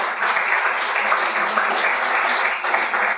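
An audience at a martial arts conference applauds a stunt master, a full, even burst of many hands clapping that holds steady from start to finish with no talk over it.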